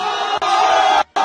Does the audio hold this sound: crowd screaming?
yes